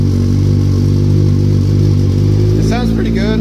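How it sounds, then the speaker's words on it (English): Motorcycle engine idling through a full Hindle exhaust from the manifold back, a loud steady low throb close to the microphone, with a brief voice near the end. "So this exhaust is a Hindle"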